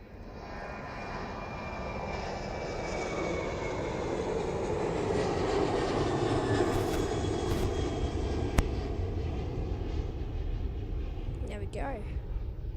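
A Qantas airliner rolling out at Adelaide Airport, its steady jet engine roar swelling gradually and holding loud and fairly close, with a brief click and a faint rising whine near the end.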